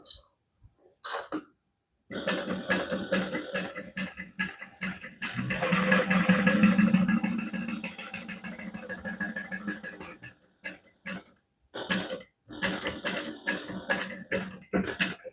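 Sewing machine running in bursts while stitching a handbag, a few short starts then a long steady run of rapid needle clatter, close and fairly loud, stopping and starting again toward the end.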